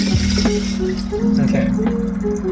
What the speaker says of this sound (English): Rinse, rinse, rinse.